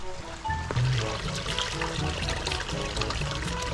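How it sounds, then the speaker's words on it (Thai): Steady gurgling and trickling of a mountain stream on the Monk's Trail to Doi Suthep, Chiang Mai, running continuously, with faint background sounds. "มีลำธารด้วย"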